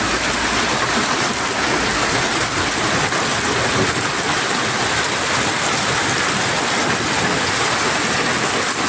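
A steady, loud roar of hail and rain beats down on streets and cars in a Saudi Arabian hailstorm, a continuous dense wash of impacts with no voices.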